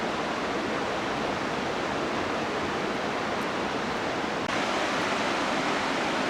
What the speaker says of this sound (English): get a view of the waterfall there off in the distance.